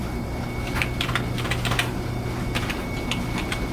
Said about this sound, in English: I just type in a simple password.